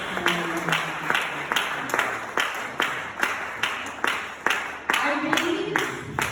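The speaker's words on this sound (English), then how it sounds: "A round of applause again for our guests." Audience applauding guests at a book launch; claps come in steady, rhythmic waves that fill the whole stretch at moderate loudness, with faint voices showing through here and there.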